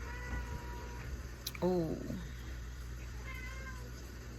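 A cat meows once in a short, wavering call indoors, close by, with a person talking before and after it.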